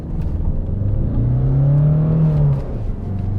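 A Peugeot 407 with the 1.6 HDI diesel engine accelerates, its low engine drone rising in pitch as the revs climb, heard close from inside the car over steady road rumble, then easing back, with no talk.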